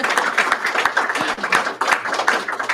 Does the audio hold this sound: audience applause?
yes